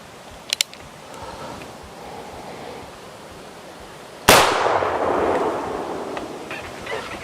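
A single loud, sharp report from a Remington New Army 1858 .44 black powder replica revolver, fired outdoors and followed by a long decaying rumble. Earlier there are small faint clicks over quiet background.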